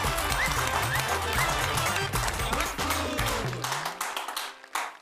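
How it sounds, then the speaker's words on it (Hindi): An audience at a shayari and ghazal gathering applauds the poet Albela Khatri with loud, dense, continuous clapping that thins and fades near the end, with a faint tonal hum beneath. "हम उनके लिए जोरदार तालियां बजाएं"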